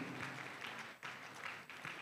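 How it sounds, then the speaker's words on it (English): Faint, distant applause from an audience at an academic award ceremony, a soft wash of many hands clapping with slight swells, quiet throughout. "Let's clap for him."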